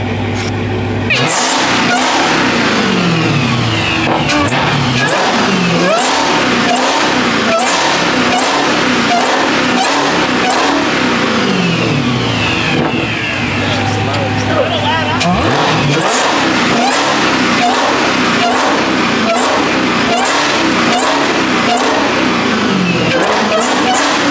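A loud car engine with its catalytic converter removed revs hard again and again, harsh and raspy, rising and falling in repeated bursts close by, with voices chattering underneath.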